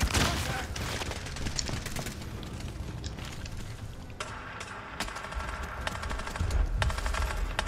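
Gunfire in a shooter video game with bursts of rapid automatic shots and crackling reports, dense and fairly loud at first, then sharper scattered shots over a busy background, with no voices over it.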